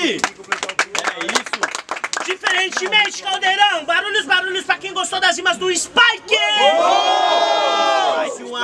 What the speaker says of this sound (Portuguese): Muito barulho pra quem gostou das rimas do Lil V.